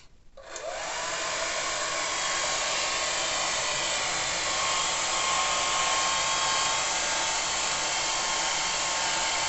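A hair dryer drying a watercolour painting of flowers starts up and runs steadily as a loud, continuous whooshing blast of air with a faint motor whine, with no one talking.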